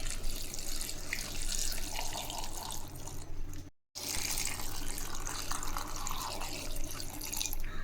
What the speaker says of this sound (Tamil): இது முழுகிற அளவுக்கு தண்ணி ஊற்றிக்கலாம்.